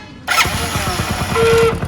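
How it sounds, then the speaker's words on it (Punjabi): A motorcycle's self-starter makes a faulty noise as it cranks: a sudden loud start, then a rapid, steady chugging pulse with a thin whine rising near the end, close and alone. "ਆ ਦੇਖੋ ਜੀ ਇਸ ਤਰ੍ਹਾਂ ਆਵਾਜ਼ ਕਰਦੀ ਹੁੰਦੀ ਹੈ ਸੈਲਫ"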